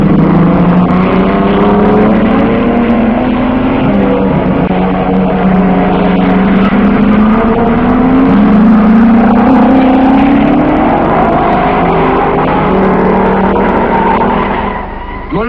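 Race cars at the 1955 Le Mans 24 Hours, Castellotti's Ferrari among them, roar past in a loud, continuous wall of engine noise, with pitches sweeping as they go by.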